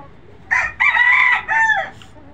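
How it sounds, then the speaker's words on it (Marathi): A native Gavrani breed chicken crows once nearby, a loud, clear call with a brief pause and a drawn-out falling ending, set against quiet farmyard background. "ही कोंबडी बघा, एकदम प्युरिटी मध्ये फुल ओरिजिनल आहे."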